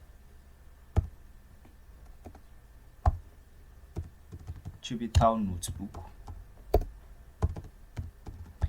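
Keyboard typing in a computer terminal in scattered, sharp keystrokes with someone speaking briefly in the middle.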